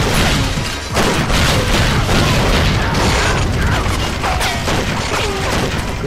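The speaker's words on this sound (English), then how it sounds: "Whoa! Grenade!" In the shooter game 007 Agent Under Fire, a grenade explosion goes off amid dense gunfire and booming, a loud continuous wall of blasts and crashes with no pause.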